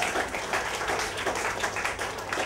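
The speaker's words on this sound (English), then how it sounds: "Guys, please welcome the round of applause." Audience applause for a comedian at a stand-up comedy show, a dense steady clapping from a crowd, sustained at moderate loudness for the whole stretch with no distinct voices.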